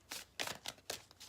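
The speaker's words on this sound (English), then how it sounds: "So while I was shuffling, I had a card come out" Tarot cards being shuffled by hand, several quick riffling bursts in a steady rhythm, close and fairly soft, with no talking.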